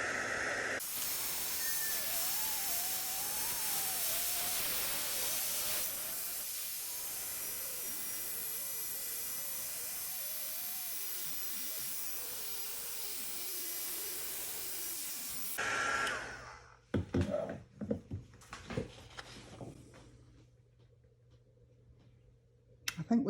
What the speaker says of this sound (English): I'll just use my heat gun.